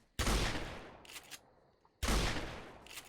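A sawed-off shotgun in the Roblox game Oretary fires two loud, booming blasts about two seconds apart, each trailing off. Faint mechanical clicks fall between the shots.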